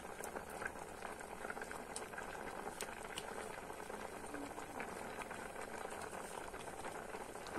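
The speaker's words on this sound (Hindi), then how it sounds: "अब देख रहे हैं हमारे चावल अच्छी तरह से पक रहे हैं, और इसको और पकने देंगे।" Rice kheer boiling in a pot, a steady close bubbling and simmering that stays even and fairly loud throughout, with no break.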